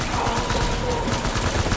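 Rapid gunfire crackles in the video game Death Stranding, a dense, continuous burst of shots filling the whole moment at close range without a break.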